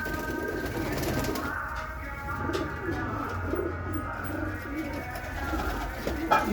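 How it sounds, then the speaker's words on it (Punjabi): Red Chinese pigeons with white beaks coo continuously in a low, rolling, overlapping chorus, steady and fairly close throughout, with no talk. "ਖੱਟੀਆਂ ਅੱਖਾਂ ਚਿੱਟੀ ਨੋਕ ਲਾਲ ਚੀਨੀ ਕਬੂਤਰ"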